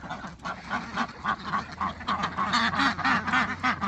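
Homestead ducks quacking in a steady run of close, loud calls, joined by goose-like honks, with a low hum underneath while broiler chickens are moved to pasture.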